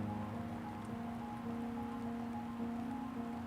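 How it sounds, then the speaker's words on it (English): Rain falls steadily at Lac de Saint-Cassien during a carp fishing trip: a continuous, even hiss of drops with a low hum underneath and no voices. "It's fucking raining."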